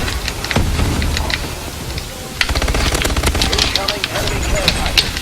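Submachine guns fire in Call of Duty: Advanced Warfare, loud rapid bursts rattling nearby with short pauses between them, along with game voice lines and background battle noise.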